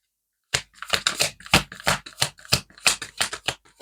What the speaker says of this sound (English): Oh, one more shuffle, is it?